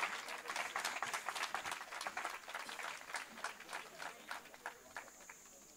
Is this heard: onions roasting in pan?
no